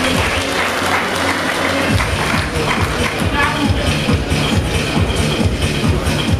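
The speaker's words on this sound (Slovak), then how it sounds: "No poprosím potlesk" A crowd at a kickboxing event claps continuously and loudly from start to finish, a dense wash of applause with rhythmic stamping or tapping underneath and voices mixed in.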